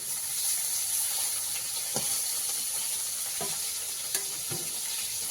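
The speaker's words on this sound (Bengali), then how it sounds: "এবার কই মাছটা ভেজে নেবো কই তেলের মাছ দিয়ে দিলাম কড়াইতে" Koi fish (climbing perch) frying in hot oil in a wok, a continuous hissing sizzle with occasional spatters and a few stirring clicks, close and steady, no talking.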